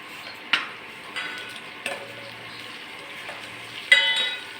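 Tempering sizzling in hot oil for a village-style chilli kadhi with turmeric, a soft steady fry with a few sharp clinks of a utensil against the pan.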